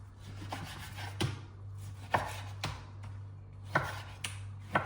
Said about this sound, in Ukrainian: В мене такий класний шмат свиної вирізки. М'ясо може бути будь-яке, по вашому бажанню. Нарізаємо.